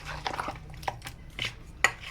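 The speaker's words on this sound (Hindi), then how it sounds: "अब इसको हम अच्छी तरह मिक्स करेंगे" Beef korma ingredients are stirred in a metal pot, giving a handful of scattered clinks and scrapes, spaced irregularly and fairly close, with no talking.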